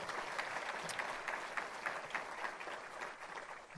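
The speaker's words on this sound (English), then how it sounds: "Can we give a round of applause, please, to the president and say thank you?" An audience applauds the university president at a Latino community event in Marin, steady dense clapping sustained throughout at moderate distance, no talk over it.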